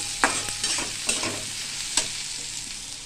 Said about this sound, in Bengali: কুমড়ো আলু ভাজছি